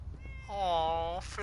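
A cat in Fallout 4 lets out one clear, drawn-out meow that rises and falls, heard close and alone after a brief quiet lead-in.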